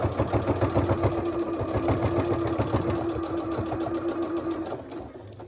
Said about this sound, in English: I'm going to sew this seam down all the way around the whole perimeter.